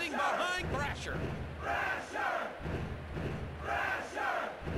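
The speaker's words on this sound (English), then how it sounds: "Cheering for Thrasher." A crowd cheers and bellows in waves in the 1998 WWF War Zone wrestling video game. The roar is loud and continuous, with some swells.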